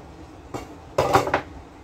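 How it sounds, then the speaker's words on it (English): Hand-washed dishes and cutlery clink softly at close range: one light knock, a short pause, then a quick cluster of clatters. "I don't have one of them fancy electronic dishwasher things. I do them by hand."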